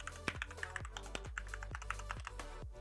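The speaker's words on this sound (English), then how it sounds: "a little bit of lubrication for the spacebar stabilizer. You can hear it's ever so slightly rattling." Typing on a Cougar Puri Mini RGB keyboard, with a spacebar stabilizer that rattles slightly: a quick, steady series of close clacky keystrokes with a low hum underneath.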